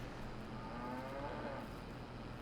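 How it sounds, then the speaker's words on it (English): Cattle moo in the Farming Simulator 22 video game, with a low, drawn-out call over a steady background hum and no talking. "Look how the cows keep jumping in there."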